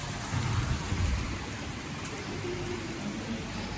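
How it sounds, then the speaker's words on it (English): Heavy, steady rainfall in Pattaya, Thailand during the rainy season, a dense continuous hiss of rain with a low rumble underneath, with no voices. "it's been raining since yesterday afternoon about 3"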